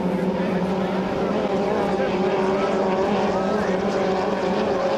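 A 2.5-litre racing boat's engine powers up during a heat, a loud buzzing, droning roar with steady tonal layers that strengthen slightly as it pulls away, while a commentator's voice runs over it.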